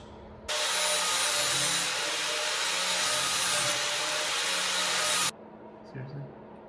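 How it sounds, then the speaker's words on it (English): An angle grinder fitted with a 36 grit flap wheel grinds the metal of a horse trailer, a loud, close, harsh whine that runs steadily for about five seconds and then stops abruptly. "Let's use 36 grit flap wheel"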